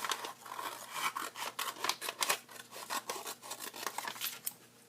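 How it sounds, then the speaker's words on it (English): Scissors snip through origami paper along a folded edge, a quick run of crisp, dry cuts and rustles repeated steadily at close range in a quiet room. "I'll cut right on the edge of where things were folded over"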